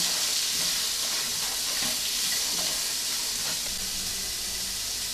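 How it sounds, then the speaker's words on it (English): Onion and carrot soften while frying in a pan for a steak pie filling, giving a steady, close broadband sizzle and hiss with faint crackles throughout, no talking. "our onion to the pan and our carrot. Let that fry out, let it soften."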